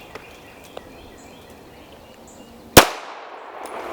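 A single pistol shot breaks a quiet outdoor stretch, one sharp loud report near the end with a short echoing tail, preceded only by faint birds and a couple of small clicks.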